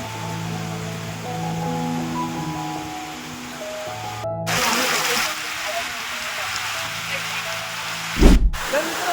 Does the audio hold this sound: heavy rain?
yes